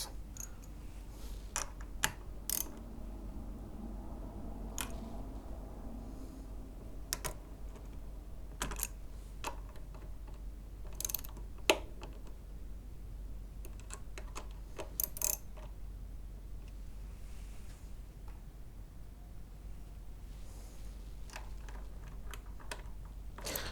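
Small metallic clicks and ticks from tightening loose tuners on a Cort CR100 guitar, sparse and quiet, scattered irregularly over a faint background hiss.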